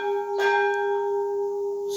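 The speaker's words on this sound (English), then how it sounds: "so temple bells behind my house" Temple bells ring near a house, with one clear metallic strike whose long tonal ring sustains and slowly fades, followed by a fainter second tap.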